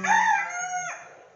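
A Polish crested ornamental chicken from the Netherlands crows once, close and loud, the harmonic call held for nearly a second before breaking off into quiet.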